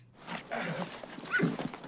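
A horse in the western film Unforgiven snorts and shifts with soft hoof movement, a brief, fairly close, agitated stretch of animal sound over a steady background.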